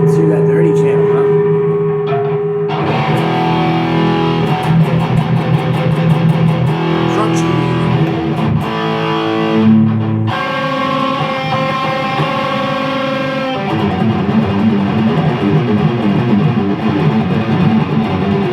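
Heavily distorted electric guitar plays loud, sustained chords and riffs through an amp's dirty channel, shifting every few seconds, close and alone.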